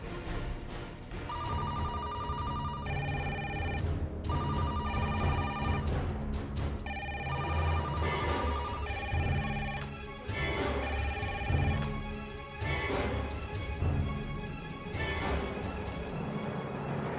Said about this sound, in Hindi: फोन की घंटियां बजनी अभी शुरू हो जाएगी